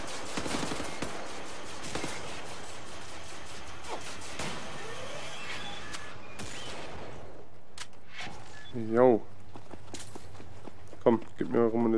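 Dense, continuous gunfire in Wolfenstein: The New Order fills the opening seconds as overlapping bursts and shots, then thins out to a few scattered blasts, with someone talking over the later part.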